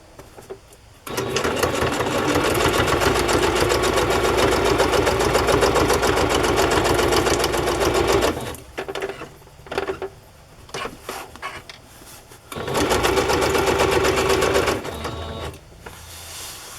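A sewing machine stitches fabric for a soft journal cover. It runs steadily for several seconds, then stops with a few short stuttering bursts before running again. The machine is close and loud.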